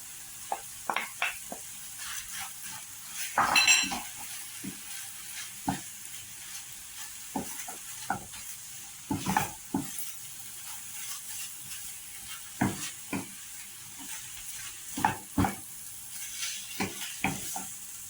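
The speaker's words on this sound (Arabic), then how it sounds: "راح اضيف البصل" Chopped onion sizzling in a hot pan while a spoon scrapes and stirs it in irregular clacks, steady frying hiss underneath, close and clear, during preparation of rice kibbeh with chicken breast.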